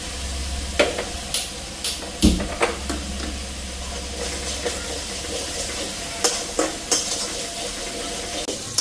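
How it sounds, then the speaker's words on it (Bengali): Moong dal heats in a pot while a spoon stirs it, giving intermittent metallic clinks and scrapes against the pot over a faint steady hiss. "এদিকে ডালটা গরম করে দিই ডালটা ফুটলি মেরা তুলছি"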